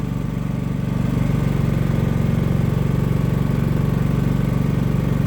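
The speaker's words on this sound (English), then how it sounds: "This is my new Champion generator." A Champion 5500 dual fuel inverter generator with electric start runs steadily during break-in, a loud, close, even engine drone with a fast pulsing throb and no speech.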